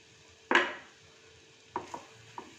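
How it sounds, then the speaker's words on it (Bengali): Fried paneer pieces are tipped into semolina upma in a pan, a single sharp clatter of utensil against the pan followed by a few lighter scraping knocks, close by with no talking. "এবার দিয়ে দেবো এই যে ভেজে রাখা পনিরের টুকরো।"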